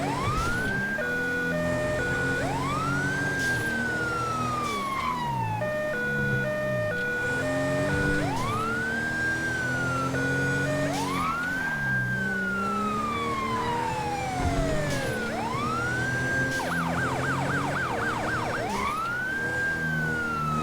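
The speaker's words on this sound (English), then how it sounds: "I do have the custom siren installed, obviously, as you guys can hear" A custom police siren in the video game GTA wails in repeated rising and falling sweeps, loud and close, briefly switching to a rapid yelp pattern near the end.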